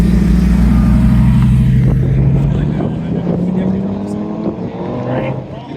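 A Lamborghini rolls into a Cars & Coffee meet with a loud, close, deep engine drone that eases off and then rises again. Voices are faintly audible around it.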